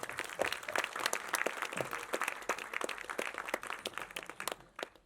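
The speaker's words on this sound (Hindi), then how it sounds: "इनके लिए तो जोरदार तालियां बनती हैं" An audience applauds the writer of a film at a movie event, a dense, steady round of many hands clapping close and loud, tapering slightly toward the end.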